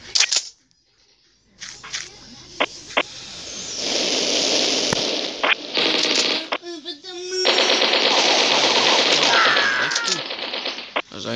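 Twin Uzi submachine guns firing in a multiplayer shooter video game: sustained rapid automatic bursts, loud and close, broken by short gaps and a few single clicks, with brief voice under the gunfire.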